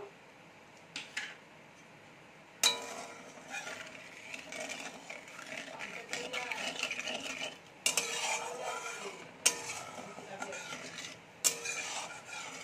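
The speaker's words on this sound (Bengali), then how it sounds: "এই আলু ভাজা তেলের মধ্যে একটু চিনি দিয়ে দেব" Fried potatoes in hot oil in a pan with sugar being added, stirred with a utensil that scrapes and clinks against the metal. Several sharp clanks stand out over a steady background of stirring noise.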